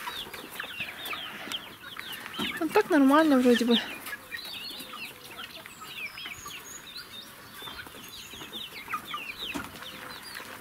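Backyard chickens clucking and calling steadily around a farmyard, with one louder warbling call up close and quieter clucks continuing throughout while a person speaks briefly in Russian.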